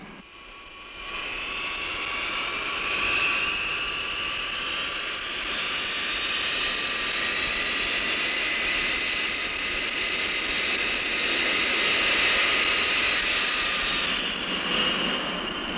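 A cargo aircraft at a large airport drones steadily with a whining jet engine, the tone rising and holding at moderate distance and swelling slightly throughout.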